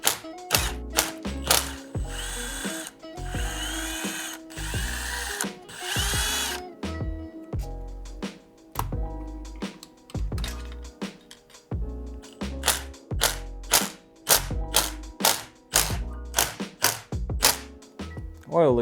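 A power tool, drill-like, cracks loose the engine case bolts on a 2005 Yamaha YZ125 during a teardown, firing in short repeated whirring bursts with brief gaps, a couple of longer runs, and ratcheting clicks up close.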